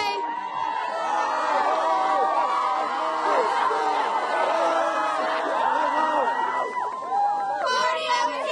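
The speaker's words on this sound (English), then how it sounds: "the ladies have a cheer for us this morning" A group of female cheerleaders at Gatlinburg-Pittman High School chant a rhythmic, spelled-out cheer together before a football game against Pigeon Forge, loud and sustained with overlapping voices.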